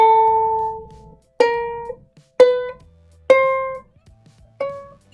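Five ukulele notes are plucked one at a time with pauses between them, each fretted higher up the string and rising in pitch, bright and ringing briefly before fading, close and clear.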